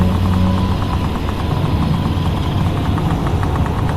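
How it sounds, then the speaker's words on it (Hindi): An old truck rumbles past with a steady, loud mid-pitched engine drone and faint rhythmic knocking, carrying on without a pause and with no voices over it. "तभी वहां से एक पुराना ट्रक गुजरता है"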